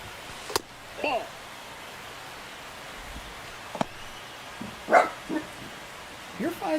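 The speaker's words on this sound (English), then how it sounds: "You don't have to bark." A dog lets out a few short, separate barks at close range, with a person talking between them and a soft, rain-like hiss underneath.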